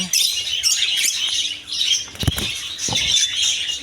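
A shop full of caged lovebirds and other colourful birds chatters nonstop in high, overlapping chirps, with a few flutters and cage rustles standing out midway.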